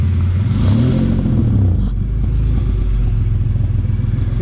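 A Honda J35 V6 engine revs up loud and close, its pitch sweeping upward and falling back to a steady, smooth rumbling idle.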